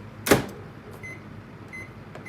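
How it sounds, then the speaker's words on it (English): A kitchen microwave oven, used to warm something for about 20 seconds, gives one sharp thump at the start, then two short, clear electronic beeps over a low steady hum. "I'm going to put it in the microwave for about 20 seconds."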